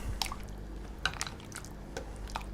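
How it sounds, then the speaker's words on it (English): Spoonfuls of pork and its juices are mixed into a pork green curry, giving soft wet squelches and drips in brief irregular bursts, quiet and close. "we can now spoon in our pork and all of its lovely juices. All we want to do now is carefully mix those in together"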